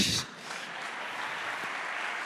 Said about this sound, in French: Acclamons coach.